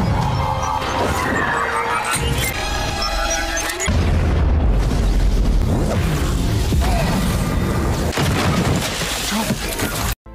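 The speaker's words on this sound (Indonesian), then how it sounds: "Secara bersamaan Charlie melemparkan bom yang meledak bersama Ansel." A loud booming bomb blast from the film Secret Headquarters, with crashing, shattering debris, amid a busy soundscape of whooshes and impacts.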